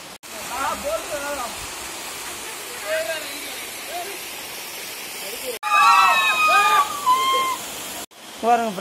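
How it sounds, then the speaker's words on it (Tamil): A small waterfall in the Kalvarayan hills gives a continuous, moderately loud rush of falling water, with birdsong chirping over it and brief cuts in the sound. "அந்த இடத்துல இங்கே ஒரு குட்டி அருவி இருக்கு ஒன்று"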